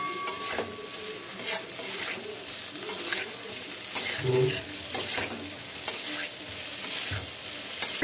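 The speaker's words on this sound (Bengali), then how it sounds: "এবার মশলাটা আমি আবার খুব ভালো করে কষিয়ে নিচ্ছি।" Spice paste with ginger paste sautéed in a pan for katla fish curry, giving a continuous close sizzle broken by regular spatula strokes scraping the pan, with faint birdsong in the background.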